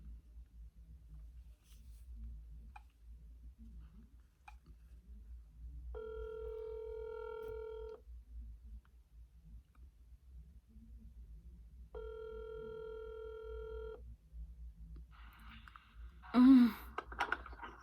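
An outgoing phone call rings twice, each a two-second electronic ringback tone separated by a pause, over quiet background hiss, followed by a brief burst of noise at the end.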